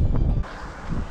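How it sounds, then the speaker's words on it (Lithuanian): Wind buffets the microphone during an uphill ride, a brief loud rushing gust that eases after a moment, with no voices. "Įkalnas, vėjas."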